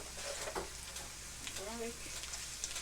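Sliced peppers fry in a hot pan with a soft, crackling sizzle, with brief clinks and faint stirring sounds over it.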